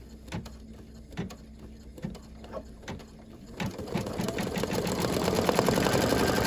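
An embroidery machine stitches gold vinyl onto a St. Patrick's Day coaster with white thread, first with spaced single clicks, then settling into a fast, continuous mechanical whir that grows louder, with no talking.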